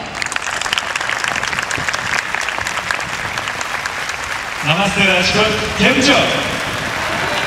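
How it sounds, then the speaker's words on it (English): Audience applause welcomes visiting performers at a concert at the Mahatma Gandhi Museum in Rajkot, India, steady for several seconds before a performer greets the crowd over the fading clapping. "Please welcome them with a round of applause."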